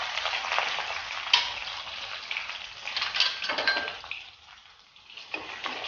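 Ginger, garlic and lemon leaves frying in a pan for Assamese pork pickle, a steady close sizzle with a few scraping stirs and small clinks, easing off briefly near the end.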